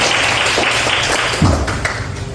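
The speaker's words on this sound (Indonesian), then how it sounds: "Ini untuk teman-temannya yang tadi membacakan harus kasih tepuk tangan dulu ya" Students in a high school religious education classroom clap for classmates who read aloud, a continuous loud wash of hand claps with a brief low voice-like sound partway through.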